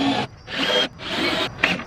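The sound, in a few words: drill pre-drilling wood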